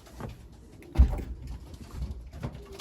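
Belgian racing pigeons landing at their loft after a race into extreme headwinds, with several birds arriving together; soft, low cooing comes close by, with a brief thump near the middle and no talking.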